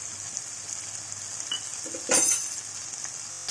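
Taro curry sizzles steadily in a pan while it is mixed with salt and chili powder, a constant frying hiss broken by a brief louder scrape of the spoon partway through.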